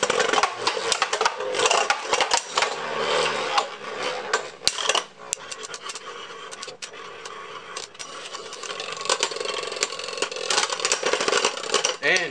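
Beyblade Burst spinning tops, stock Driger and AuraDragoon combos, rattle and clack inside a plastic stadium, a dense run of sharp metallic ticks and scrapes with brief louder collisions and a faint voice now and then.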